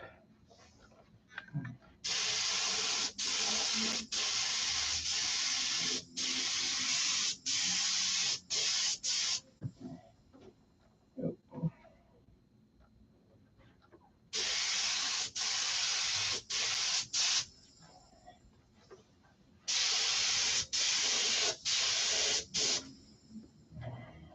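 Close, loud bursts from a paint spray gun laying down heavily thinned paint for touch-up work, hissing in several separate passes of a few seconds each, with quiet gaps between them.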